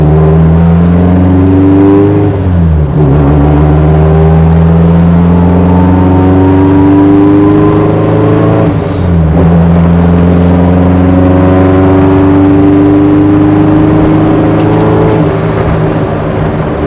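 A 1992 Nissan 240SX S13 hatchback track car fitted with a 2JZ engine runs loud and close, its tone rising and sweeping through repeated revs with a smooth, strong harmonic drone.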